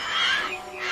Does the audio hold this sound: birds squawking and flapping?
yes